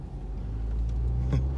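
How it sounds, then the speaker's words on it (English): Steady low engine rumble and road noise inside a car on a commute to work on an overcast morning, continuous and fairly loud with no talking. "Snap Turtle in the car on his way to work."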